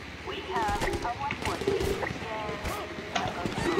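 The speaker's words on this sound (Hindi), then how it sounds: "इधर कुछ फायरिंग काहे कर रहे हो" Gunfire in GTA 5 crackles in scattered bursts beneath animated conversation, with people talking throughout over the shots.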